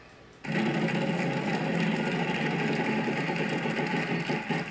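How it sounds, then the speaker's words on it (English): The prize wheel spins in the Wheel of Fortune 2nd Edition PC game: a sudden onset of a steady, rapid ticking whir that keeps an even pace and loudness for over four seconds. "Let's give this a spin."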